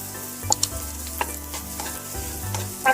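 Dal, peanuts and dried chillies fry in hot oil with turmeric while being tempered for pulihora. A steady close sizzle runs under repeated stirring, with a few light spoon clinks against the pan.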